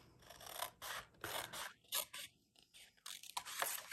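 Scissors snip through designer series paper to cut a flap for a handmade gift bag, a quiet series of short rasping cuts in an uneven rhythm, close and faint, with no talking.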